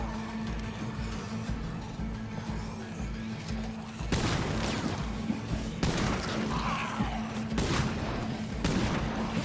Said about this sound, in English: how do you get a shotgun blast between the heads of two zombies, not hitting any of them?